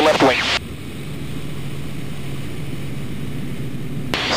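Cessna aircraft engine in a vertical climb during a hammerhead manoeuvre, a steady droning roar held throughout under cockpit wind noise, with a louder burst at the start.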